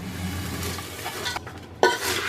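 Puffed rice murmura being tossed and mixed into a spiced chivda snack, a continuous dry rustling and scraping with a sharper knock near the end, close and fairly quiet.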